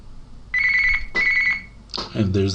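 Telephone ringing for an automated AWS identity verification call: two clear electronic ring bursts close by, followed by a brief voice at the end.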